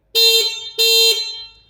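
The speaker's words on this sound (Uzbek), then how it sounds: "Aytgancha, signalini ham bitta eshitib ko'ringlar." Two loud, close blasts from the electronic horn of a Yadea Ruibin electric scooter, each a steady tonal honk about a third of a second long, separated by a short gap and followed by a brief fade.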